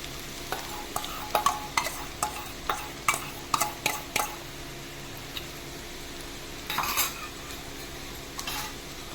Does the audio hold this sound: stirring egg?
yes